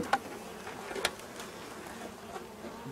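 Honeybees buzz faintly at the entrance of a nucleus hive outdoors, a soft steady hum broken by a couple of brief close clicks, with no speech.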